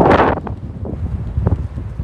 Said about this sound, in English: wow, it is really windy